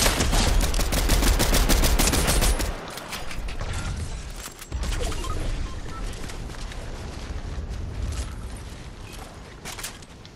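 Rapid gunfire in Fortnite, dense bursts of automatic shots crackling in the opening seconds, then scattered shots and mechanical clicks and rattles at moderate loudness.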